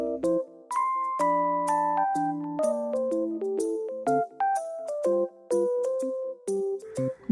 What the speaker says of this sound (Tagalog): Bell ringing.